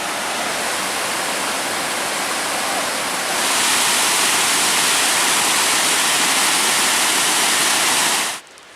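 Tahquamenon Upper Falls in Michigan, where the river pours over a ledge, gives a loud, steady, broadband roar that swells slightly midway before cutting off abruptly.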